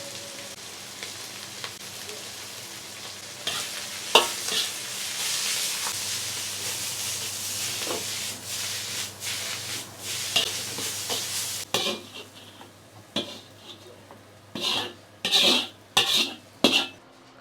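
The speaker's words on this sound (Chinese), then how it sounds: "把这个梅菜炒一下，多加点盐。" Preserved mustard greens (meigancai) stir-fried in a wok with extra salt, giving a steady sizzle under repeated scraping and stirring clatter that grows into sharp, separate spatula strikes near the end, close and fairly loud, with no talk.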